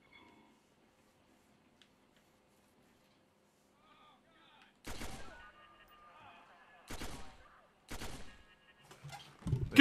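Revolver shots in the Watch Dogs video game ring out in a few sharp, separated bursts after a near-silent stretch, with quiet talk in between.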